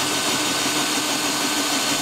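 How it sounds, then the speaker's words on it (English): Power drill boring a 7/8-inch hole through a van wall for a shower head, a steady continuous whirring grind that stays loud and even throughout, with no talk. "So we drilled our 7/8 hole for our shower head."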